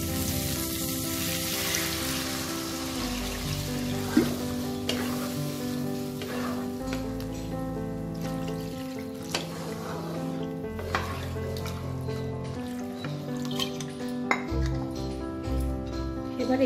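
Water goes into a fried spice paste for a climbing perch fish curry with cauliflower, and the pan sizzles loudly while a utensil stirs and clinks against the metal. A steady hum from an appliance runs beneath throughout.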